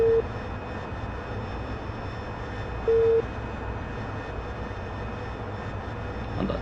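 An AV-8B Harrier jet engine holds full power during a climb in a steady, continuous roar, broken twice by short warning tones, with no voices.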